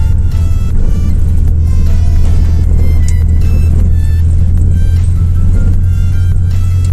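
A car drives steadily along a road under construction in Kisumu, Kenya, with a loud, continuous low engine rumble and road noise throughout, and no one speaking.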